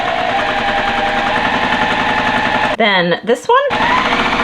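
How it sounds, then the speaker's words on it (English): A sewing machine stitches quilt fabric pieces in a steady, loud, continuous mechanical run, pausing briefly near the end before resuming, with a person talking over it. "Then I'm gonna start sewing this one."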